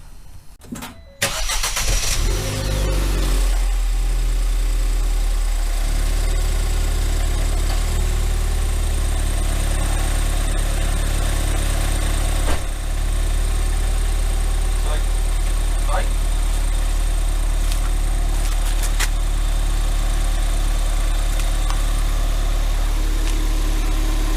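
A Ford Fiesta ST engine cranks and catches after a brief starter whirr, then settles into a steady, close, rumbling idle that runs on evenly with occasional faint clicks.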